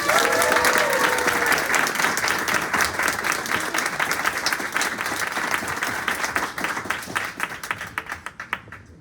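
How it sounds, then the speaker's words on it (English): An audience at a book event for ballet writer Marina Harss breaks into sustained applause, dense and loud at first, then slowly thinning into scattered claps near the end. "we are going to give her a massive round of applause to the brilliant writer,"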